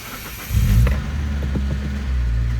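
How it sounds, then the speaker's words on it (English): A 2003–2008 Toyota Corolla's engine cranks and starts with a short loud surge, then settles into a steady low idle rumble inside the car. "All right, let's turn on the car."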